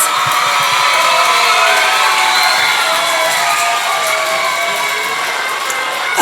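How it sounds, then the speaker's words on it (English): Children and adults at a school student-of-the-month assembly cheer, whoop and shout for the October winners, a loud sustained crowd roar filling the whole stretch with scattered clapping mixed in. "let's hear for a round of applause for our October winners"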